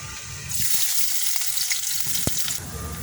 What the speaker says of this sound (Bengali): এবার পেঁয়াজ কুচানোগুলো দিয়ে দেবো।